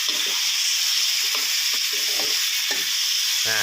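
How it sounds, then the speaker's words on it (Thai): Pork stir-fries in a hot pan with a loud, steady hiss of sizzling oil, broken by repeated spatula scrapes and stirring strokes, close and continuous with no one talking. "เราจะผัด เราจะคั่วไปเรื่อยๆนะครับ ให้หมูเขาสุกแล้วก็แห้งนะครับ"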